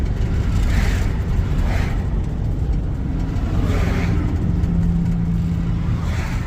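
A vehicle with a 4L80E automatic transmission drives steadily on a test drive, its engine and road noise a constant loud drone from inside the cabin, with a faint change in pitch as it shifts down.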